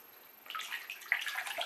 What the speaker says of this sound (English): This is your first time splashing.